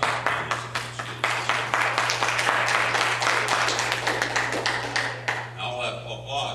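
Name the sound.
audience applause during a debate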